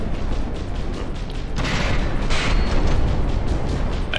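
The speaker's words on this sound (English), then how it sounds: "There's another barrage. I'd say those cram cannons are pretty good then." A cram cannon barrage in the game From the Depths, loud rolling booms and bursts that swell into a sustained roar of repeated heavy impacts.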